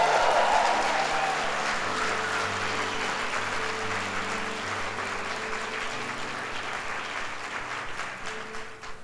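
A church congregation applauding during a Sunday service, steady sustained clapping that slowly fades, with faint voices and a soft musical tone beneath.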